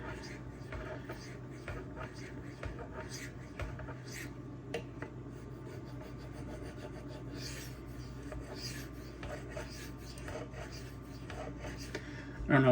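Knife steel, ZDP-189 or Magnacut, scrapes across a Suehiro Debado whetstone in repeated short, gritty rasping strokes, close and fairly quiet, falling into an irregular rhythm throughout.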